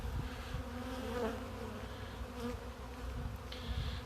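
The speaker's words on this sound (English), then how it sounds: "swarm of bees right there" A swarm of bees drones steadily around a tree limb outdoors, a dense continuous buzz close by with individual insects flying past, and no talking.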